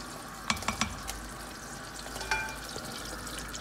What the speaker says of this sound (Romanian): acum pun morcovul la pelit